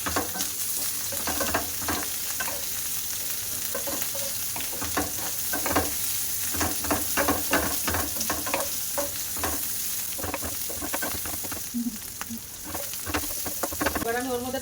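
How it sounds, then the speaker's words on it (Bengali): Chopped onion and green chili frying lightly in oil for a spicy pasta, a steady soft sizzle broken by repeated scraping stirs, close up with no talk. "পেঁয়াজ কাঁচা লঙ্কাটা একটু ভাজা করে নেবো হালকা।"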